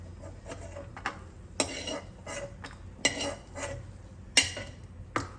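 A spoon scrapes and clinks against a metal pan and plate in scattered, sharp knocks over a low background hum as roasted cashews are transferred.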